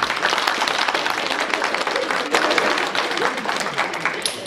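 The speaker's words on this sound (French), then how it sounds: "je voulais les applaudir pour ça" An audience at a seniors' community meal claps in sustained applause, a dense, steady patter of many hands filling the room, with a few voices mixed in.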